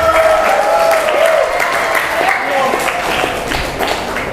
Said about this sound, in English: What a speech from Angel, and give applause to Angel.